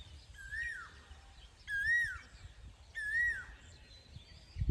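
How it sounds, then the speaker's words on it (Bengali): An Asian koel calling outdoors, three clear rising whistled notes repeated at a steady interval, fairly distant against a quiet background. "আকাশ দেখছেন ওই কুকিল ডাকতেছে দেখেন"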